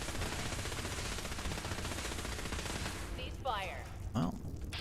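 Sustained rapid buzzing fire from a Gatling laser in Fallout 4, a dense continuous barrage for about three seconds that cuts off abruptly, followed by brief faint vocal sounds.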